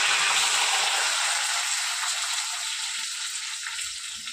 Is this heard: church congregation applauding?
no